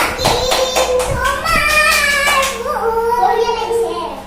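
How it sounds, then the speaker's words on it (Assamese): A child and an adult clap their hands in a quick run of sharp, close claps, followed by a child singing; voices are heard throughout. "মোৰ কলিছা তালি বজোৱা তুমি তালি বজোৱা"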